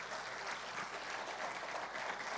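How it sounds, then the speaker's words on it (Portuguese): Steady applause from a church congregation during a worship service, a dense even wash of clapping that holds at one level throughout with no voices standing out. "Então dê um aplauso bem forte ao Senhor"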